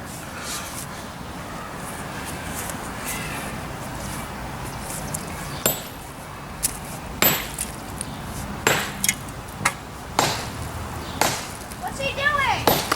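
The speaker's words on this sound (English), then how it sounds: "So I'll bring you in on this part of this demo now that I got a sledgehammer." A 12-pound sledgehammer breaks apart a fireplace during demolition, with sharp, irregular impacts and crumbling debris that grow more frequent toward the end, over steady background noise and some talk.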